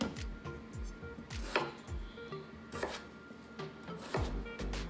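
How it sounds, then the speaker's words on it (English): A knife chops red potatoes into even pieces on a cutting board, with repeated sharp taps in an uneven rhythm, heard close and alone. "try to cut them all about the same size here"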